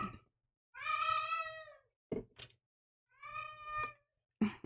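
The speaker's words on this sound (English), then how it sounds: "He came in from outside. He's irked about something. Ben, feed that cat." A cat just in from outdoors gives two drawn-out, insistent meows with a pause between, close and clear in a quiet room, plus a few faint clicks and rustles.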